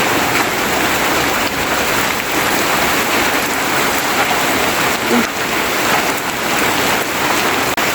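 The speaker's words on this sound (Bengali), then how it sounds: "এই দেখেন বৃষ্টি পড়তেছে অনেক" Heavy rain pouring steadily, a dense, loud hiss of drops on surfaces that continues without a break.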